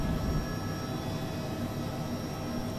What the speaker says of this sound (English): Let's see if this number two engine's going to start here.